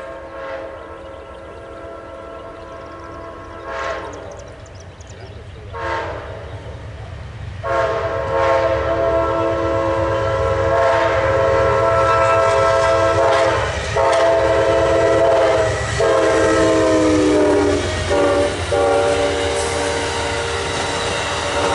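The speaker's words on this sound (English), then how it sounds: "Is that another Amtrak?" Amtrak passenger train passing through Folkston, a loud horn blaring in long sustained blasts over the rumble and clatter of railcars rolling close by.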